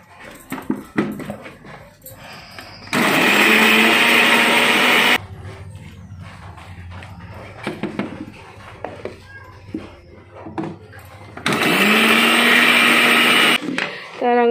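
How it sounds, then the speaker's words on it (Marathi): A mixer grinder whirs through Goan chicken xacuti masala ground with lemon juice and no water, in two loud, steady bursts of about two seconds each, with voices, clatter and knocks in between. "हेच्यात उदक न घालता आमकां हे वाटून घेवपाचे आसा"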